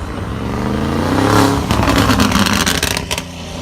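A McLaren 720S engine revs hard nearby at a car meet, the note climbing to a loud peak and then popping and crackling as it settles.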